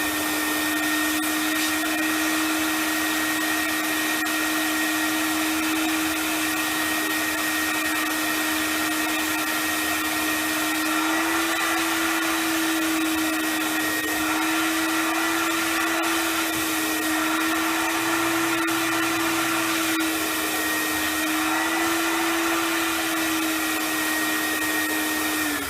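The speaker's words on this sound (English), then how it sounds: "Turn on the vacuum. Watch what we get in here." A vacuum cleaner fitted with two hoses and brushes runs steadily and loudly throughout, a constant droning whine with a slight pitch wobble and no talking.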